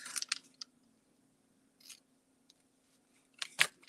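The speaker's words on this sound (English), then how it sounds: "So we're going to go up and cut that baby off." Scissors snipping through paper while a cardstock Easter bunny gift bag is shaped, a few sharp close cuts at the start and a louder cluster near the end, separated by quiet pauses.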